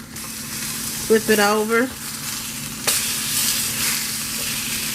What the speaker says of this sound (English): Over here we got some delicious steak warming up.